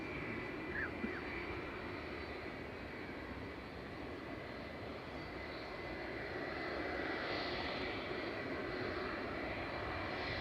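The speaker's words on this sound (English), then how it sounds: "So Jet2's LSAN is taxiing out, headed over to the Spanish Balearic island of Ibiza" Jet2 airliner taxiing at Manchester Airport, a steady distant roar of jet engines at an even level throughout, slowly swelling slightly toward the end, with no voices.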